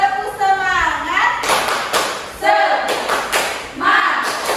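Classroom group clap game, 'tepuk semangat', with bursts of children clapping together in quick rhythmic patterns between a teacher's spoken cues and children's voices.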